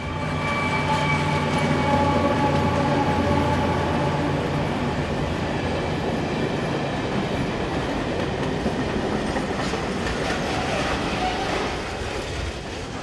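A freight train hauled by a pair of Class 736 locomotives, running from Vrútky to Hannover, rolls past loud and close, with a continuous heavy rumble and rhythmic clickety-clack of wheels that eases slightly near the end.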